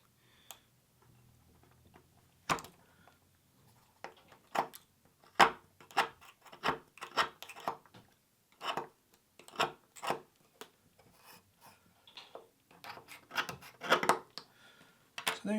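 Hand-trimming a chamfer into the plastic and epoxy body of a 3D printer proximity sensor, a series of sharp close clicks and scraping cuts in irregular bursts, each stroke distinct and fairly loud against a quiet background.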